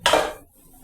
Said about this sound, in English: wash my dishes